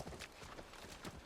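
Horse hooves clip-clop in the video game The Last of Us, a soft irregular series of muffled thuds at a walking pace, fairly faint and steady.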